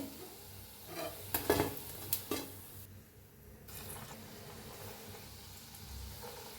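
Pakoras (bhaji) for kadhi pakoda frying in oil: a soft, steady sizzle with a few sharp spoon-against-pan clinks early on, then quieter bubbling.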